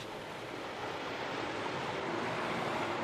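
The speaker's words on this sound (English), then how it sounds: "Through the cleaned Falaj, water tumbles towards the village." Water tumbles steadily through a cleaned falaj irrigation channel in Oman, a continuous broadband rush with no pauses or voices.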